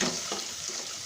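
Chopped onions frying in a pan with bay leaf, cinnamon and cardamom for a Bangladeshi chicken roast, a short steady sizzle with faint stirring scrapes, close and continuous.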